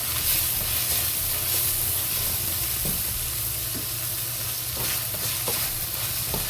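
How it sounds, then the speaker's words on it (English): Rendered ground beef slowly fries with a spoonful of Sichuan chili sauce in a pan for mapo tofu, making a loud, constant sizzle and hiss with occasional soft knocks of a stirring utensil. "we add 1 tablespoon of Sichuan chili sauce. And slowly fry."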